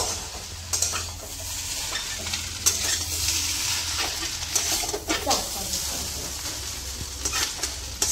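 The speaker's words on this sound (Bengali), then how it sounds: "টমেটো সস দিয়ে নিয়েছি, নিয়ে ভালো করে নাড়া দিয়ে নেব" Chowmein being stirred with tomato sauce in a home pan: a steady sizzle with scraping utensil strokes against the metal at irregular intervals, fairly close, alongside a low background hum and faint bird calls.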